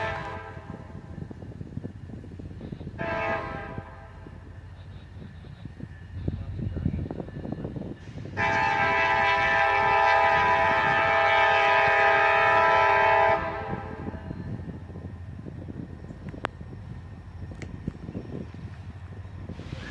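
A freight train rumbles past slowly at a siding during a four-train meet. A long, loud horn blast sounds midway, with shorter horn notes before it, over a continuous rolling rail noise.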